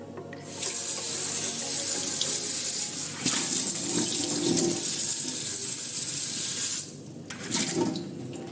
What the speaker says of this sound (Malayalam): കുക്കറിൻ്റെ അടപ്പൊക്കെ നന്നായിട്ട് കഴുകണം ഈ ദ്വാരമൊക്കെ അടഞ്ഞിരിക്കാതെ ഒരു ഇറുക്കിൽ എന്തെങ്കിലും ഇട്ട് അതിൻ്റെ ദ്വാരമൊക്കെ നന്നായിട്ട് ക്ലീൻ ചെയ്യണം വാഷറൊക്കെ നന്നായിട്ട് കഴുകണം